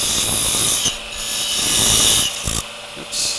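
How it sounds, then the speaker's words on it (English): A parting tool cuts into spinning wood on a lathe to part off a lidded box, giving a loud, rasping scrape in bursts with brief pauses between cuts. "And I'm just trying to part it off."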